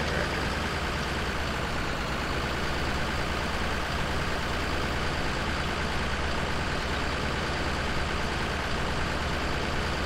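A tractor engine in Farming Simulator 17 runs at a steady drone, a dense continuous rumble that stays even and close throughout with no talking.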